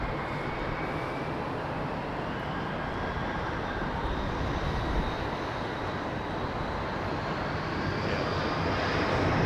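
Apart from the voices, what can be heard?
aircraft taking off from runway 27R at London Heathrow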